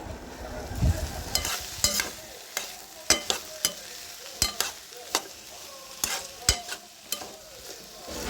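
Ivy gourd frying with tomatoes and curry leaves in a pan, a steady sizzle broken by repeated sharp scrapes and taps of a stirring spoon, close and without speech.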